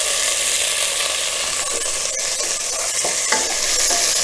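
Onions and tomatoes sizzle steadily in a hot pan for a makhani pasta sauce, with a constant frying hiss, broken by occasional scrapes of a spoon stirring the contents.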